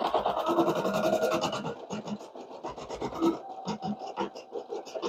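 A Brother PE 800 embroidery machine stitching an iron-on patch, giving a steady, fast rasping hum of needle strokes close up that continues without pause, with no talk.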